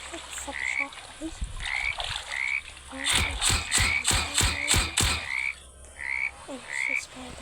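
A frog in the game 99 Nights in the Forest croaks in a fast rhythmic run of loud pulsing calls mid-clip. Quieter chirping croaks come before and after over a steady forest hum.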